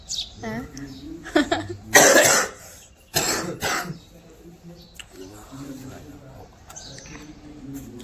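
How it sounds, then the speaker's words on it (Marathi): A person coughs in a few harsh bursts, close by, between stretches of quiet talking. "आमचा खोकला दिवसेंदिवस वाढत आहे"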